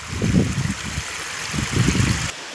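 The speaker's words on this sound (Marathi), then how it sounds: "हे खळखळ वाहणारे निर्मळ असे पाण्याचे झरे" A forest stream babbles steadily nearby, a continuous broad rushing and gurgling flow with small fluctuations in level, alone without voices.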